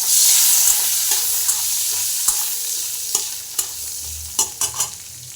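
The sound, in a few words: cardamom and cinnamon sizzling in butter while stirring, baby chicken stew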